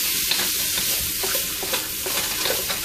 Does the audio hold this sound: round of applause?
no